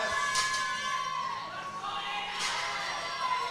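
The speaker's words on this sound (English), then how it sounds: "The crowd is getting loud for Aiden." Crowd at a student and university world powerlifting championship cheering for a lifter, a faint, distant mix of shouts and voices rising in bursts.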